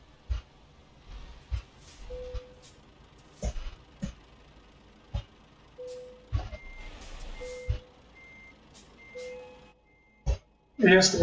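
A heavy truck in Euro Truck Simulator 2 sounds steady reversing beeps while parking. Evenly spaced single tones repeat over engine hum, with scattered clunks and a louder burst of noise at the end.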